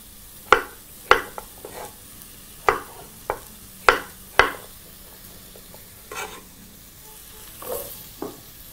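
Cubed potatoes fry and sizzle in a pot, broken by several sharp knocks and scrapes of a spoon stirring them, with a steady low hiss underneath.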